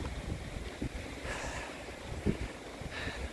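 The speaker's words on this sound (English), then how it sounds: "The wind's getting up again." Wind blowing outdoors around Birmingham International, a broad steady rushing gust buffeting close to the microphone, with brief low thumps and no talk.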